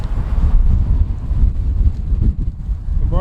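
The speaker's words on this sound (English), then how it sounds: "we just got a really good gust of wind there" Outdoors during a Hubsan Zino drone connection test, wind buffets the microphone in a loud, continuous low rumble that swells in gusts, with no talk over it.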